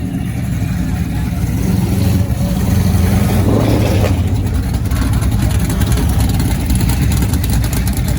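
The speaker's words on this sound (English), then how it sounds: "Watch these guys do their burnout." Drag race cars roar through burnouts before a grudge race at Rocky Mountain Race Week, a loud, sustained engine drone with revving surges heard from nearby, with voices talking underneath.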